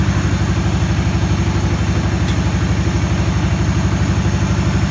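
A Yazoo MidMax 52 riding mower engine idles steadily right after a cold start, with a close, loud and even low-pitched chugging pulse throughout and no talking.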